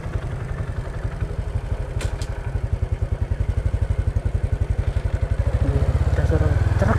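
A Honda Supra X 125 motorcycle engine idles with a steady rapid pulse, then the revs climb and the throttling grows louder toward the end.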